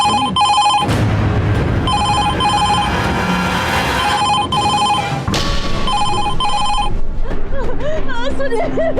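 Telephone bell rings loud and repeatedly in short bursts, with a dramatic music and noise bed under it and a pause between rings.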